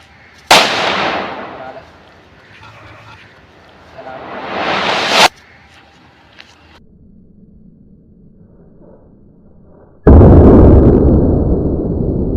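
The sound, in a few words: kuruvi vedi firecracker bursting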